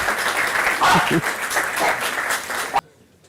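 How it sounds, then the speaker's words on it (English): Applause from an audience at a church peace conference session, dense clapping filling the room for under three seconds before cutting off abruptly, with faint voices mixed in. "Applause from the back."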